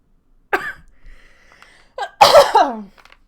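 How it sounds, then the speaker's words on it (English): Two sharp, close bursts from a person, a short one followed after a pause by a louder harsh cough-like burst, in otherwise quiet surroundings. "Sorry for coughing."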